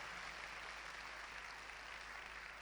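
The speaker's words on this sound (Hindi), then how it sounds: "जोरदार तालियां खूबसूरत कलाम के लिए।" Applause fills a Sunday church meeting, a steady, dense clapping from the congregation that stays fairly soft and even throughout with no voices over it.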